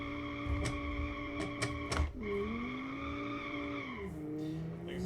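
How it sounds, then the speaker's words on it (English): A car in the driving game Automation spins its wheels, its engine holding a steady, buzzing tone while the tires squeal and skid; a few sharp clicks come early, then the pitch drops and settles. "It just spins its wheels."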